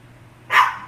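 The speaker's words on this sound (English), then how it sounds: "Sorry, dogs are barking." A single short, close, loud dog bark rises sharply out of a quiet room.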